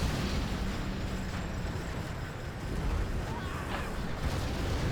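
Cannon fire and explosions in a China versus Tank strategy game match, a dense, continuous barrage of booms and bursts at steady loudness throughout.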